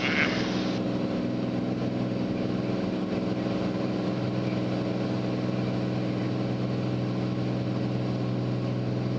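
Steady engine and propeller drone of a Cirrus SR22T G6 aircraft during its takeoff roll, a constant loud hum with strong low tones throughout and no speech.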